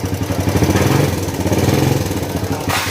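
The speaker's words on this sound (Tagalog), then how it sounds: "Kung papasin nyo yung tong ng makina niya, ayan, parang may kumakalansing." A loud motorcycle engine with a faulty tensioner idling with a rapid, rhythmic rattling clatter, close up and continuous throughout.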